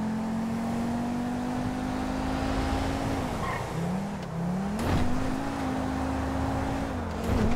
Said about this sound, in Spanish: solamente voy a dejar que escuchéis el sonido del motor